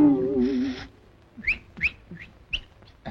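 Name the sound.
person whistling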